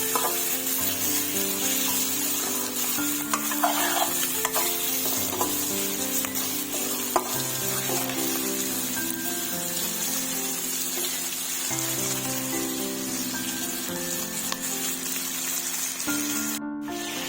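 Broiler chicken coated in spices frying in oil in a pan, a close, unbroken crackling sizzle that runs the whole time, broken by occasional clicks and scrapes of stirring, with no one speaking.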